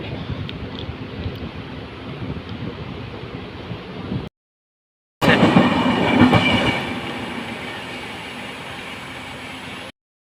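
The Punalur–Madurai Express passenger train rumbles steadily with dense broadband clatter, cuts out briefly, then returns louder with rattling and a faint high squeal.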